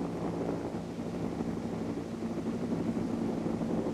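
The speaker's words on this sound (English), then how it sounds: "while the helicopter flies round" An RAF Leuchars helicopter circles near a lifeboat at sea during a rescue exercise, its engine and rotor producing a steady, distant droning rumble blended with wind and water noise, unbroken and fairly faint.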